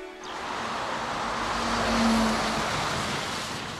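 Car driving on a road toward Bonn, a loud steady broadband roar of engine and tyre noise heard from close by, swelling slightly in the middle, with no talking.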